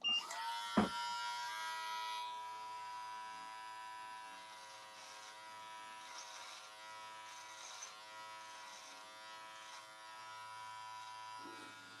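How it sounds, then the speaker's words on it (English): Electric clippers trimming a dry beard, a steady close buzzing hum with harmonic whine running throughout, with a sharp click near the start as it engages. "So you do want a dry beard when you're doing the clipper work."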